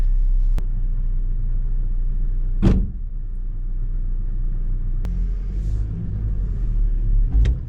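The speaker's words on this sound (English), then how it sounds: "So we'll take her for a little drive." A car drives after a no-throttle-response repair, its steady low engine and road rumble close and continuous throughout, with a couple of brief louder bumps and no talking.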